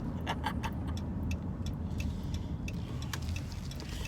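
Car cabin noise while driving along a street, a steady low road rumble with faint repeated ticking, like an indicator, and no talk.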